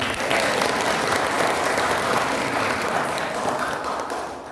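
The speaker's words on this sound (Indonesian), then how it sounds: "untuk Bapak Ibu semua beri aplaus yang meriah." A seated audience gives warm, sustained applause, a dense wash of clapping that holds steady throughout at close range.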